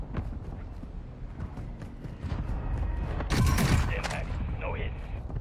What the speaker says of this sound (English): I have another mortar strike